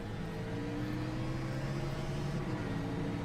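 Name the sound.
race car accelerating and shifting gears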